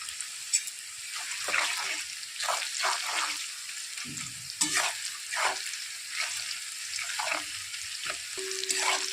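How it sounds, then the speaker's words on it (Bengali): Onions fry in a pan with a soft, steady sizzle, broken by repeated scraping stirs of a spatula; no one speaks. "আর পেঁয়াজ ভাজা হয়ে গেছে"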